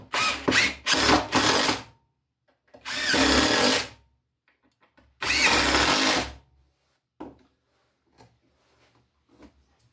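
A power drill drives three two-inch screws into wood while building a woodworking shaving horse: three loud, close whirring bursts, the first broken into short stuttering pulses, the next two longer and steady, followed by faint handling clicks.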